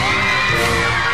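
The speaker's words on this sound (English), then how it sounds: "And Robbie, these are a range of Spanish fireworks, very stylish, very exuberant. And very loud." Spanish fireworks exploding at the 1998 Singapore National Day Parade, a dense, continuous roar of loud bursts and crackle blending with crowd noise and cheering from a distance.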